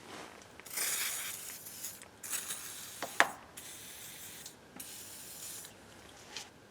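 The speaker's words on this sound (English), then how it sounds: "it's always a good practice to put some lubrication on the bolts" Lubricant sprayed onto car wheel bolts during a tire change, heard as several short, close aerosol bursts separated by pauses, with a faint mechanical click among them.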